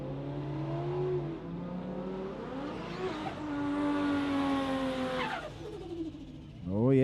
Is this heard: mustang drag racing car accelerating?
yes